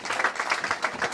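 Congregation clapping in a church service, a dense, steady patter of many hands applauding together at fairly close range with no talk.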